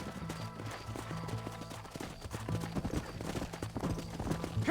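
Horse hooves galloping in the Red Dead Redemption video game, a rapid continuous clatter under a steady low rumble of game sound, with faint voices in the mix.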